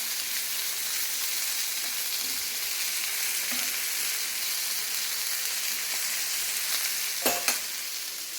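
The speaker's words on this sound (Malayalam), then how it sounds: "അങ്ങനെ മീനും പൊരിച്ച് കഴിഞ്ഞു" Fish frying in oil in a pan gives a steady, close sizzle that holds evenly throughout, with a couple of brief clinks near the end and no talking.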